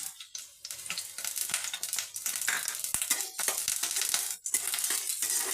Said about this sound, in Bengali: তেলটা আমার গরম হয়ে গিয়েছে এখানে আছে পেঁয়াজ পেঁয়াজটা আমি দিয়ে দিলাম